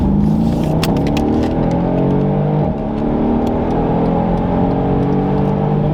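A 600 hp Mercedes E63S AMG wagon accelerating hard up a highway on-ramp, heard from inside as a loud, continuous engine roar climbing through the gears with a brief dip at a shift.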